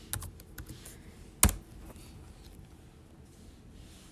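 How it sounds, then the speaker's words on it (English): A computer keyboard is tapped to type a web address, with a few quiet keystrokes at the start, one sharp louder clack, and then near silence, all close by. "now I'm going to go on my computer and type in this address"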